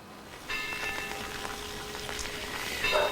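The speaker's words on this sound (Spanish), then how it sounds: "Pues sigue lloviendo, eso sí," Light rain falls on El Hierro in the Canary Islands, a soft, steady patter of drops heard faintly against a quiet outdoor background with a thin steady hum.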